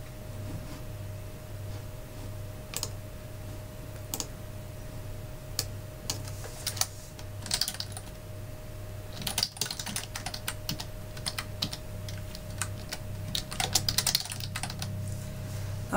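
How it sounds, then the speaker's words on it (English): Code being typed on a computer keyboard: quiet, irregular key taps in short clusters, growing busier toward the end over a low steady hum, with no talking. "Now I've just typed in for I."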